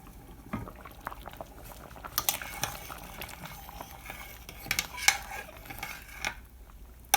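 Sweet potato and red lentil soup simmering in a pot, a soft bubbling hiss with scattered faint clinks and pot sounds, quiet and close, with no talking.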